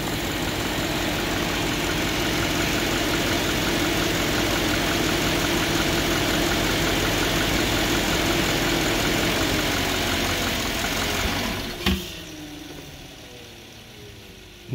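A car engine idles steadily during an at-home alternator test for flickering headlights and battery drain, a continuous close rumble that holds even until a sharp click near the end, after which the drone thins and tapers.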